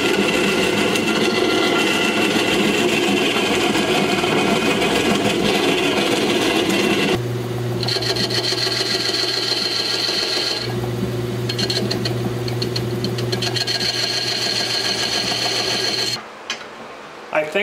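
A lathe runs steadily in a farmhouse workshop, a continuous loud mechanical whir with a low hum, shifting pitch partway through, then cutting off near the end.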